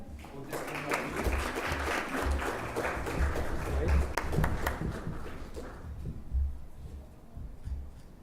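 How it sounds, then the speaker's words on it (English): Audience at a university International Moon Day event clapping for the participants, a moderate round of applause that fades after several seconds, with low room murmur and some talk underneath. "Let's give a big clap for our amazing participants."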